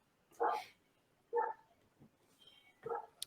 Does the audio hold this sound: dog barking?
yes